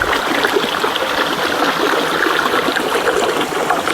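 Stream water rushing over rocks along a stony jungle path, a steady, close and fairly loud babbling flow that runs unbroken with no voices.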